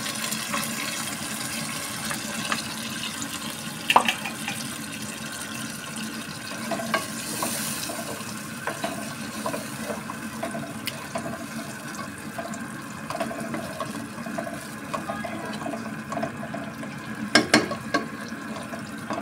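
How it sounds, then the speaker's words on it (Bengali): Water poured from a grinder jar into a pan of well-fried spices in a home kitchen, giving a steady wet hiss and bubbling with occasional clanks of utensils, close and continuous for a long stretch, no voices. "গ্রাইন্ডারে জারে করে আমি পানি দিয়ে দিচ্ছি।"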